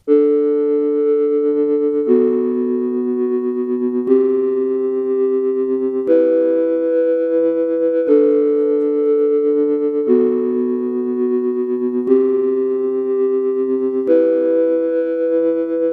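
A sustained synthetic tone, a drum-pedal sample played in a sampler, with buzzy harmonics, retriggered every two seconds as a repeating pitched phrase, loud and steady with no voices.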